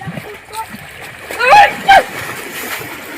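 Fish splashing in a pond stirs up two short bursts of water near the middle, set against an outdoor background, with people talking close by.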